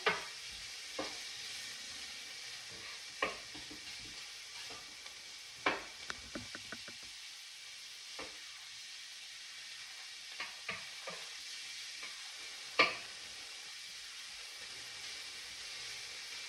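Collard greens sizzle steadily in a hot pan while a wooden spoon stirs, knocking against the pan now and then in scattered taps.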